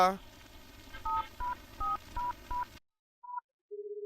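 A coin-operated phone gives a rapid run of dialing tones, about half a dozen even beeps, followed after a brief silence by a couple of line tones, with a voice talking faintly underneath at the start.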